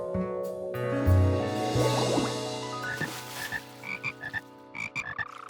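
Several frogs croak in short bursts, close by, with a low humming drone underneath and brief pauses between calls.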